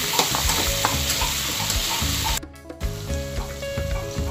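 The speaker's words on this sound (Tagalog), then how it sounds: "prituhin muna natin itong patatas at saka carrots" Potatoes and carrots frying in a pan for chicken curry, a loud, dense, continuous sizzle close by that breaks off briefly in the middle and then resumes, with no talking.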